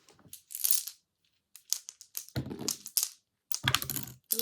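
Bursts of quick, crisp keyboard typing, starting and stopping in short clusters with brief pauses between.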